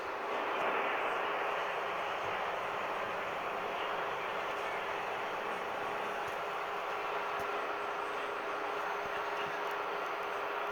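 A Mercedes-Benz Sprinter 312D van on the move, heard from inside as a steady, even drone of engine and road noise that stays constant throughout with no clear breaks.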